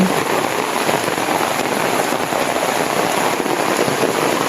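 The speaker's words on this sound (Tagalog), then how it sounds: "Sobrang lakas ng ulan." Heavy rain from a typhoon pours steadily at a campsite, a dense continuous roar of drops close by, with no breaks or voices.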